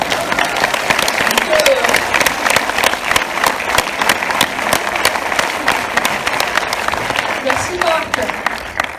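An audience at a film premiere applauds steadily and fairly loudly for several seconds, with dense clapping and a few faint voices mixed in.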